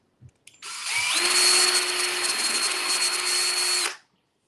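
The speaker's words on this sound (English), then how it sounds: "So I'm going to drill a hole just like we did for the little curly cues." A power drill whirs steadily for about three seconds, close and loud, spinning up after a couple of short clicks and then winding down.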